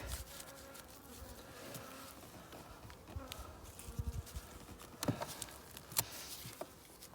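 Honey bees buzz steadily around hives being moved to the lowlands, a close, thin hum with scattered knocks and handling clatter from the hive boxes.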